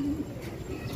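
A racing pigeon back in its home loft after a 168 km training release gives soft, low cooing across the whole second, close and steady over light background noise.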